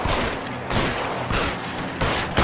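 Gunfire in the video game L.A. Noire, four sharp loud shots spaced roughly evenly over a couple of seconds, each with a brief noisy tail.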